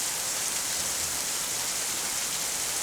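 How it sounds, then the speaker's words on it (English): Torrential rainstorm downpour with wind in Tennessee, a steady, loud, broadband hiss of pouring rain that fills the whole stretch without pause or talking. "Right now, torrential downpour and wind."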